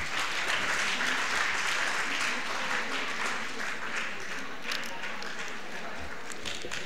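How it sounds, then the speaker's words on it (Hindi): An audience applauds at a ceremony, dense steady clapping from many hands filling the room for the whole stretch, with faint voices murmuring underneath. "सभी तालियां बजा सकते हैं।"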